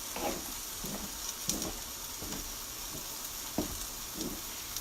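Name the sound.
ground beef sizzling while frying in a pan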